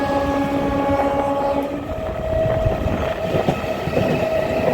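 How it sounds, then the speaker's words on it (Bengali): A local commuter train passes close by on a rainy day, with a steady loud rumble and rolling wheel clatter throughout and a sustained horn tone in the first half. "লোকাল ট্রেন আগে আগে চলে যাচ্ছে।"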